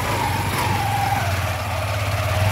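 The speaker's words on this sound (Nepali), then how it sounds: "आदरणीय काका नेत्र राईज्यूले यहाँ बाइक राइड गरिराख्नु भएको छ" A motorbike engine runs steadily at close range, giving off a continuous low rumble with a faint higher whine that drifts across the short stretch, loud and alone with no talk over it.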